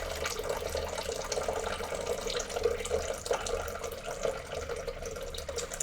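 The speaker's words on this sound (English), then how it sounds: "Let's put more water in it." Tap water running steadily into the water tank of a Lavazza Classy Plus espresso machine, a continuous moderately loud rushing stream with a slight splashing texture and no voices.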